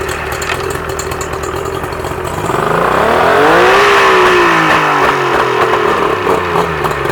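Mercury 50hp outboard on a pontoon boat, idling steadily and then revving up as it runs in gear, the pitch climbing and holding before easing slightly, close and loud with no talking.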